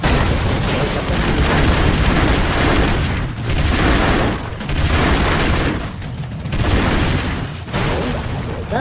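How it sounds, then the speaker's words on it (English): Grenade blasts and gunfire from the video game Broforce roar almost continuously, dense booming explosions layered with rapid shots, loud and close, easing briefly between bursts. "I'm gonna throw one more grenade."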